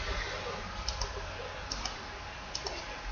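A computer mouse clicks while tracing a selection with Photoshop's magnetic lasso tool, three quick pairs of soft double clicks spaced about a second apart over a faint steady background hiss.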